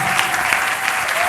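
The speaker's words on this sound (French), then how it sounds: "Acclamons très fort le Seigneur." A church congregation applauds together, a dense, loud, steady wash of clapping that fills the short moment without a break.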